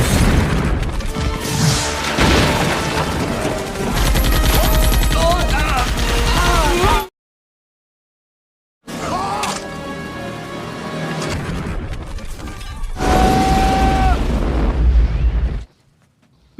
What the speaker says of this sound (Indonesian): Saat sedang tembak-tembakan, Tupper berlaga seperti Rambo dan memenangkan pertempuran